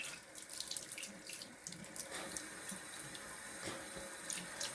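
Running tap water splashes steadily into a sink while shaving soap is rinsed off, a continuous close hiss and patter throughout with no talk.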